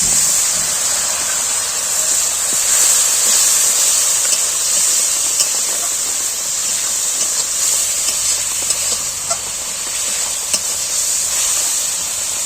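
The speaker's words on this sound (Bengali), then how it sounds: "একটু জল দিচ্ছি, নাহলে পুড়ে যাবে।" Water poured into a hot pan of shrimp and taro sets off a steady, loud sizzling hiss with steam, with faint stirring scrapes over about twelve seconds and no talking.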